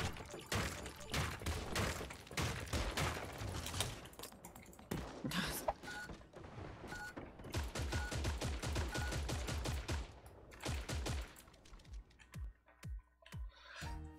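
Gunfire in the game Creative Destruction, including shotgun blasts: dense, continuous shooting at moderate volume for most of the stretch, thinning into spaced single loud shots toward the end.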